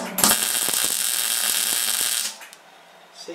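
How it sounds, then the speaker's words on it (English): A small Daytona MIG welder crackles and buzzes steadily for about two seconds while tack welding nuts onto a workbench fixture plate, close and fairly loud, then cuts off to near silence. "All I'm going to do, take my little Daytona MIG, and I'm going to basically tack all these to start with."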